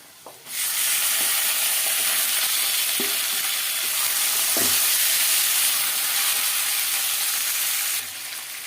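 Marinated duck meat hits hot fried spices for an Assamese-style duck curry, bursting into a loud, sustained sizzle with a few utensil knocks before it eases off near the end.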